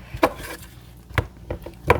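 A knife strikes a wooden cutting board while chopping vegetables for homemade asparagus soup, four separate sharp thuds spaced irregularly, fairly close and moderately quiet, with no voices.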